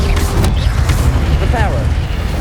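An Incendio fire spell is cast in the Hogwarts Legacy video game, a loud rumbling burst with whooshing, crackling magical effects that fills the whole moment.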